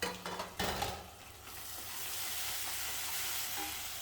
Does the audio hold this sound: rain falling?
no